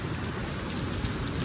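Heavy monsoon downpour in Pandharpur, with water flooding into a house: a dense, loud, steady hiss of rain hammering surfaces, continuous and unbroken with no voices.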